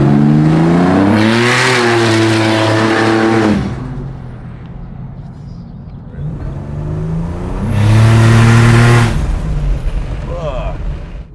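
Turbocharged Buick Grand National making about 650 wheel horsepower roars through two hard acceleration pulls, engine pitch climbing steadily each time, loud and close from inside the car with a quieter cruising stretch between.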